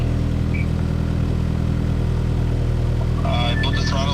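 A tuned car engine idles steadily close by, then picks up as the throttle is eased open, with a rising whine over the low rumble near the end.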